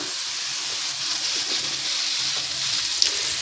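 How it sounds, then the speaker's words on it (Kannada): Peanuts frying in hot oil in a home kitchen, giving a steady, even sizzle and hiss throughout with a small pop near the end. "ಶೇಂಗಾ ಕಾಳು ಈ ಥರ ಕ್ಲೀನಾಗಿ ಫ್ರೈ ಆಗಿದೆ"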